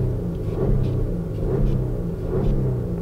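Audi A8 engine revving hard in neutral up to the rev limiter, a loud, steady deep rumble with slight swells in pitch throughout, heard close with no talk.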